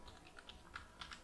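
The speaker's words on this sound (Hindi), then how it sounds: "अब यहाँ पर हम टाइप करते हैं अपनी हेडर फाइल" Quiet keystrokes on a computer keyboard, a handful of light, irregular clicks in quick succession while code is being typed, close and soft with no talking.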